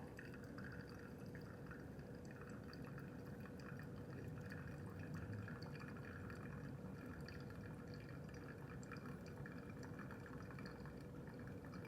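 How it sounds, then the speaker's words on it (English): Hot water pours slowly and steadily from a kettle over coffee grounds for a pour-over brew, a quiet continuous trickle with faint splashing throughout and no talk. "Maybe let's just constantly pour up to like 240. Do like 2 pours."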